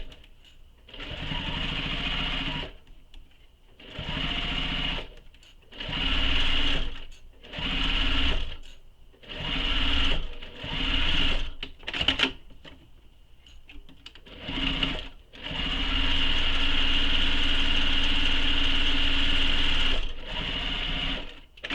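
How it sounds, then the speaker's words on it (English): Sewing machine top stitching the long edges of a fabric key minder strap for a mini messenger bag, running in repeated short bursts with brief pauses, then one long continuous run near the end. "we're going to top stitch both the long edges of this key minder all the way down"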